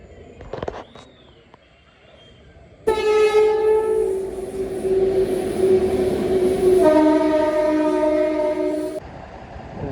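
A train horn blares loudly and steadily at a railway station, then shifts pitch, with rumbling railway noise around it and brief sounds before the horn starts.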